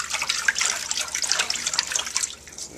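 Hot water from a sink sprayer running while cleanser is mixed in for bottling beer, a continuous close hissing splash with bubbly fluctuations, no talking.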